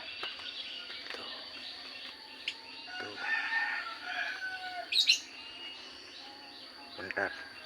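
Pet birds, kept as zebra doves, call in a quiet outdoor setting with scattered chirps and tweets plus a few sharper calls over faint background hum.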